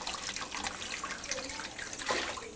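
Water runs steadily from a sink tap set to 72 degrees in a home darkroom, a close splashing, gurgling stream with small drips and a brief surge near the end, no talk.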